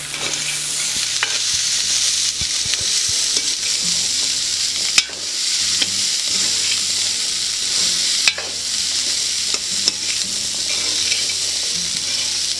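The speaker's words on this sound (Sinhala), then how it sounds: "කලවම් කරමු." Chickpea kottu frying and being stirred in a pan, a steady loud sizzle with scraping and clattering of the spatula throughout, close up and without talk.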